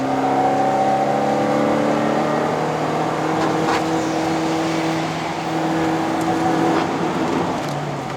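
A modified 120whp Perodua Myvi 1.5L climbs a steep mountain road toward Genting in Malaysia, its engine holding a loud, steady, strained drone with a thin whine over it and no voices.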